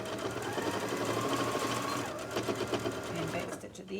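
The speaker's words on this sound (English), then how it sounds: "I like to back stitch over that open end," A sewing machine runs steadily while back stitching the open end of a makeup bag, a continuous close mechanical whir that slows and stutters briefly near the end.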